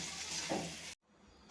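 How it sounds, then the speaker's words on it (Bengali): Potatoes frying in a pan of oil for a chicken kasha curry, a steady close sizzle for about a second that cuts off abruptly, then faint kitchen noise returns. "এখানে আলুটা ভেজে নিচ্ছি।"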